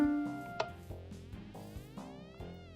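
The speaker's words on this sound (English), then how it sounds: "4 ticks is 4/10 of a second and sounds like this." Minecraft note blocks triggered through redstone repeaters at a 4-tick delay, heard as faint, evenly spaced plucked tones in a slow, regular rhythm.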